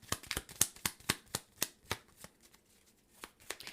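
Tarot cards being shuffled by hand, a quiet close series of crisp rhythmic riffling flicks that slow and thin out toward the end.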